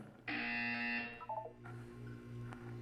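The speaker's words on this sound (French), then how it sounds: "Vous allez entendre une sonnerie." The test chamber chime from the Portal 2 video game rings out loud and close, a sustained buzzing electronic tone that drops into a short stepped falling tone sequence, then low ambient hum continues.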